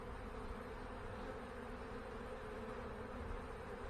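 Honey bees buzzing inside a crowded bottom hive box, a dense steady drone that holds evenly and close throughout, with no voices.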